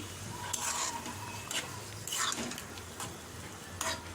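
Boneless beef pieces go into a spice paste frying in oil, with a soft, continuous sizzle broken by a few scraping stirs and light clinks of a utensil against the pot, fairly quiet and without voices.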